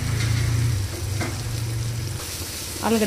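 Potatoes sizzle in a pan for tomato aloo rice, a steady frying hiss with stirring scrapes, fairly close, and a brief voice near the end.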